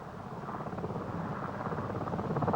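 Steady rotor thrum of a helicopter, a continuous low chopping drone that grows slightly louder toward the end, with no voices.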